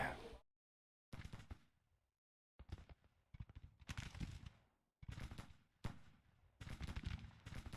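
Artillery fire in a Grand Tactician: The Civil War battle, heard as a series of sharp, booming blasts separated by short silences, some sounding near and heavy, others rolling and overlapping.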